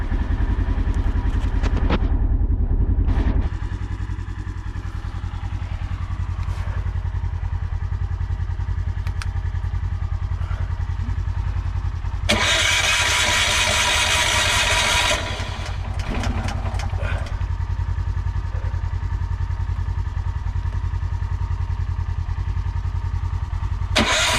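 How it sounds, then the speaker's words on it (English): A generator engine runs loud and close with a steady, rough drone throughout, briefly rising at the start, then settling. A broad hissing burst cuts in midway. "we go start the generator"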